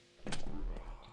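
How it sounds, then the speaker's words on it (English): A lift in the Quake II video game starts moving, with a short mechanical whir and a low rumbling hum that fades after about a second. "So just take this lift and we're back here"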